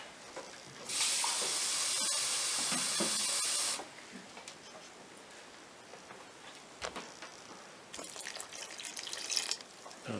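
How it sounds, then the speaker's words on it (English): Cold water pours into a pot of mushroom barley soup in a steady rushing stream for about three seconds, followed by quieter kitchen handling and a second short splashy pour near the end. "Add another cup of water."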